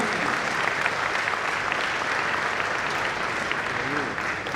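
Sustained applause from a large audience at KNUST's 75th anniversary celebration, steady dense clapping throughout with faint voices mixed in beneath it.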